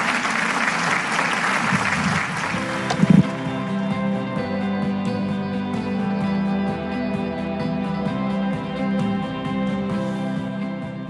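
A large rally audience applauds in welcome for José Manuel Barroso, a dense sustained wash of clapping that fades after a few seconds into a musical fanfare with a steady tone.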